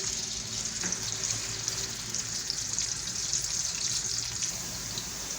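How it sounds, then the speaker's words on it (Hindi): Onions fry on a medium flame in a pan, giving a steady, close sizzle with fine crackling and hiss that holds evenly throughout, with no talking. "मीडियम फ्लेम में 3 से 4 मिनट के करीब भूनेंगे"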